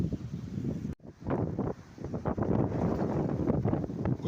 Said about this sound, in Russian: ураганный ветер переворачивает все на своем пути